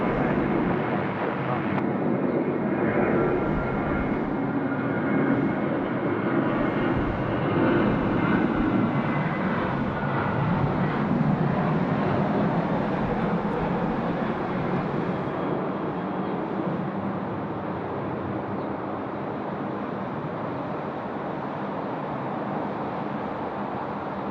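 Fixed-wing airplane landing on runway 16 right at Sydney Airport, a steady broad roar of engine and rushing air holding loud and close for the whole stretch, easing only slightly toward the end, with no voices.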